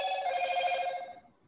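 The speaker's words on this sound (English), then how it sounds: "No, sorry, that was my phone." A phone rings with a single bright, electronic bell-like trill that fades out, heard clearly in a quiet room.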